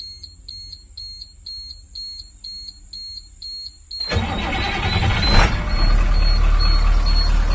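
A school bus engine cranks and fires up after a run of steady electronic warning beeps, then settles into a loud, rough idle rumble close by.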